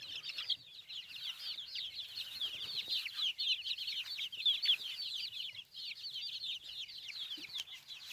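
A busy flock of 47-day-old chickens peeping and chirping continuously, high and lively, close by with no talking.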